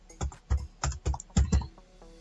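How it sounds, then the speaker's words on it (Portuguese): Password keys tapped on a computer keyboard in a short burst of about nine clicks, close and distinct, arriving in small uneven clusters with no talking. "Eu vou colocar aqui a senha do meu canal"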